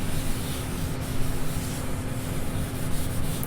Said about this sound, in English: First thing I'm going to do is wipe it lightly with a makeup pad